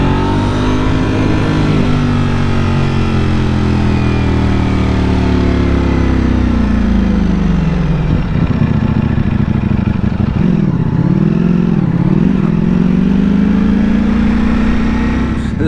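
A brand-new Ducati Panigale sport motorcycle ridden through downtown Orlando streets, its engine droning loudly and steadily for the whole stretch, with the pitch sagging and rising again as the rider eases off and revs back up.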